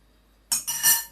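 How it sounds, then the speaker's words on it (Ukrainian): Quick metallic clinks and scraping of a fork against a bowl as a dumpling dough mixture of eggs, salt and oil is stirred, a short burst after a moment of quiet. "Я розмішую вилочкою, можна вінчиком."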